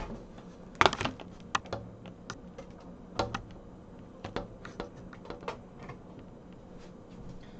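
Keys clack on a SteelSeries Apex Pro TKL mechanical keyboard, an uneven run of close, crisp clicks with a few louder strikes and short pauses, over a faint steady room hum and with no talking.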